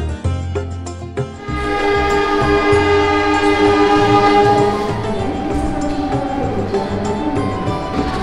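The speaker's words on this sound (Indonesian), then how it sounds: "kereta Jakatingkir tiba di tujuan akhir stasiun Pasar Senen di Jakarta" Jaka Tingkir economy-class train arriving at Pasar Senen station in Jakarta, with a steady loud rumble of cars and wheels and sustained tonal horn-like or brake-squeal notes running throughout.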